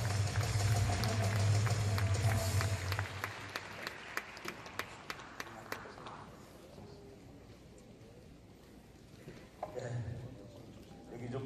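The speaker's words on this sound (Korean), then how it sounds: "큰 박수로 환영해 주시기 바랍니다." A large audience in an indoor arena at a church leadership inauguration breaks into loud, dense applause that gradually thins into scattered individual claps and fades, with a brief swell of crowd noise near the end.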